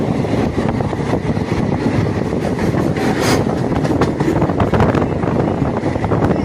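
A train rumbles down the Bhor Ghat toward Karjat station, its loud, continuous rolling noise layered with rattling carriages, wheel clatter and wind buffeting the microphone close by.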